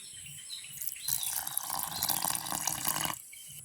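Water pours in a short, splashing stream for about two seconds, close by, then stops; a quiet background before and after.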